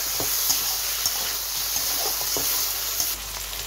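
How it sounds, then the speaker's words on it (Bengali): Taki fish frying in oil with two or three bay leaves, a steady soft sizzle with occasional faint spatters and scraping, no voices. "আমরা মাছগুলো কিন্তু তেলের উপরে ভেজে নিলাম"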